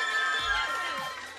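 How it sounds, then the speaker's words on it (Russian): Crowd at an award ceremony cheering and applauding, a loud dense wash of clapping and shouts with a few whoops rising over it throughout. "Поздравляем еще раз, бурные аплодисменты."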